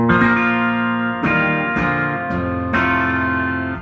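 A clean electric guitar plays through a Fender Blues Deluxe Reissue tube amp turned all the way up to 12, with about five ringing strummed chords sustaining close and loud with almost no distortion.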